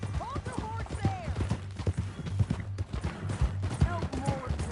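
Horse hooves clip-clop in a steady rhythm in Red Dead Redemption 2, close and moderately loud, mixed with speech and game background sounds.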